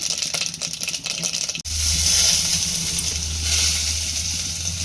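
Coconut pieces dropped into hot oil with mustard seeds, first a crackling spatter, then a sudden loud, steady sizzle close by with a low rumble underneath and no talking.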